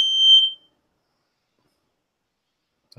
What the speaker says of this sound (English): smoke detector. Yeah, it might have been. Probably the battery's about dead.